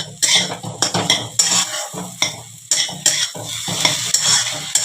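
A spatula stirs semolina upma in a pan as water is added, giving repeated loud scraping and clattering strokes over a soft sizzle, close by and with no talk.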